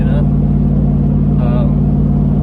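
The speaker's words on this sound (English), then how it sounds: "I know if y'all hear the truck, I'm going down the highway" Steady low engine rumble and road drone from inside a truck moving on a highway, continuous throughout, with brief voice-like sounds over it.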